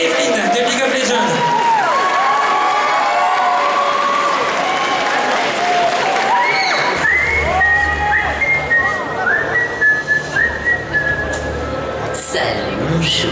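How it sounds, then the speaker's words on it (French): Audience at a cosplay contest and parade applauds and cheers a cosplayer dressed as Evelyn from League of Legends, with loud sustained clapping, whistles and whoops filling the hall, a voice talking over the crowd near the end. "Je vais vous demander donc de l'applaudir très très fort et de l'encourager."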